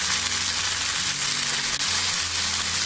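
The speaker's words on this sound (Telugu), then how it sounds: "ఇంకా 2 నిమిషాలు ఈ వంకాయ బాగా చక్కగా మెత్తగా ఫ్రై అయ్యే వరకు కూడా వేయించుకోవాలి" Eggplant pieces fry in a pan for vangi bath, a steady close sizzle and crackle that carries on evenly throughout, with no voices over it.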